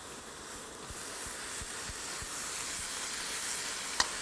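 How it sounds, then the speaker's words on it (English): Mushrooms steaming in a pan with a small splash of water give off a soft, steady sizzle and hiss, fairly quiet and continuous, with faint low pops now and then and a small click near the end. "Just a small amount of water and we sort of steam them"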